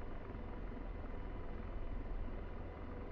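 An AH-64D Apache helicopter's rotor and engine in the DCS World flight simulator make a steady, dense, low rumbling drone that holds evenly throughout, with no talk over it.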